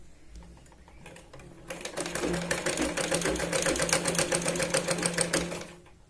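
A sewing machine stitches a double seam on a blouse tuck, beginning with a few slow taps before settling into a fast, steady rattling run for several seconds and then stopping. A voice speaks over the machine.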